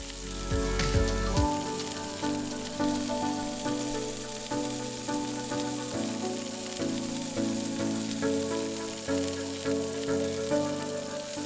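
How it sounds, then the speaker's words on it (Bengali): Chopped garlic and green chili frying in white oil for chow mein give off a steady, continuous sizzle that holds evenly throughout, with a faint tonal hum running underneath. "ওই তেলেই দিয়ে দিলাম কুচিয়ে রাখা রসুন আর কুচিয়ে রাখা লঙ্কা, দিয়ে ভালো করে ভেজে নেব।"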